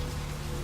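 Steady rain falls on the night streets and alleys of Santa Monica in Vampire the Masquerade Bloodlines. It is a dense, continuous hiss with a low rumble, even and unbroken, and no one speaks over it.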